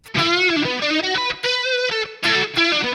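Heavily distorted electric guitar, an Enya Inspire carbon fiber smart guitar through its built-in speaker, plays a short riff of sustained, gritty chords and notes, loud and alone.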